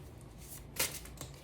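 Tarot cards being shuffled by hand, a quiet papery riffle with a sharper burst of card noise in the middle and a smaller flick near the end, close and alone without talk.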